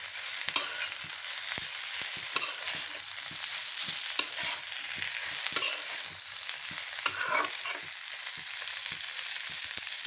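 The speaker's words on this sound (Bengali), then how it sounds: "চালটার আচারটা আমি নেড়ে দিচ্ছি।" A spoon stirs chalta (elephant apple) pickle in a hot pan, with a steady sizzle of frying under repeated scraping and clinking strokes, close and continuous with no voices.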